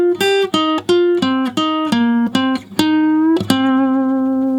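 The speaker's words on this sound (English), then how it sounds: "Really, really cool lick, utilizing your minor pentatonic scale and stacking through those intervals." Lead guitar lick built on the minor pentatonic scale, played as a quick run of distinct plucked notes with bends and slides, ending on one held, sustained note; clean and close with no talking.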